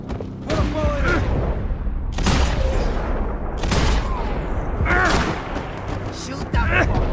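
Gunfire from the video game Max Payne 3: several loud, sharp bursts of shots spaced a second or so apart over a low rumbling ambience, with voices speaking in between.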